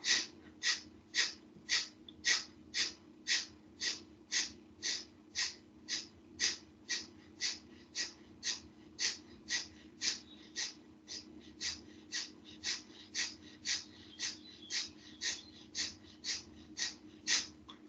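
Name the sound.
fast controlled breathing exercise, inhaling and exhaling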